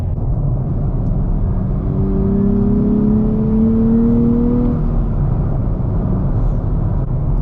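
A Nissan Z sports car cruises on the highway at about 75 mph, giving a loud, steady engine and road drone with a rising whine midway, and no talking.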